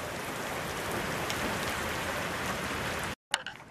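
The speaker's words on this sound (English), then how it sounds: "It's raining hard." Heavy rain pours outside as a dense, steady hiss that holds evenly for about three seconds, then cuts off abruptly before a few faint knocks.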